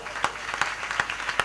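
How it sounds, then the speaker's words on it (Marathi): An audience at a kirtan devotional gathering claps in a brief scattered burst of applause, moderately loud, with a murmur of voices under it. "त्यांच्यासाठी टाळी वाजवा."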